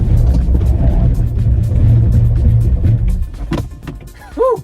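A 2024 Chevrolet Equinox EV brakes hard on a wet road, a loud low rumble of tires and road noise that fades as the car slows to a stop, followed by a brief voice at the end.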